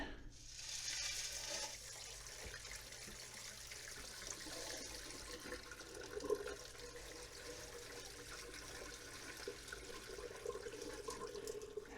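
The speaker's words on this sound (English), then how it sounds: "Pour the water out." Water pours and splashes steadily for several seconds, a continuous rushing, gurgling wash close by, as water is poured out after molten gold was added to it during gold refining.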